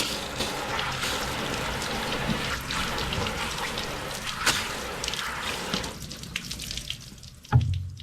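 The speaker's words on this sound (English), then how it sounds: "please excuse my spitting water pressure" Water from a garden hose with weak, sputtering pressure sprays onto the headlight covers of a GMC Yukon, a steady close hiss that thins out near the end before a sharp splash or knock.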